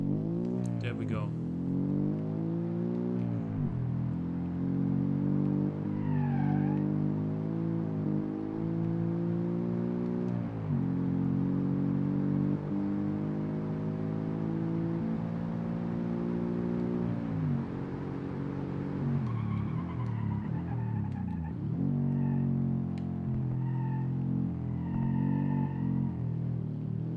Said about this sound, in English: I like the sound of the Boxer 4 as well.